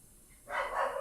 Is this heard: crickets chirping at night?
no